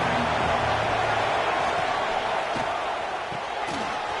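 A stadium crowd in the College Football 26 video game sends up a constant broad roar, loud and dense throughout, with faint thuds and swells beneath it.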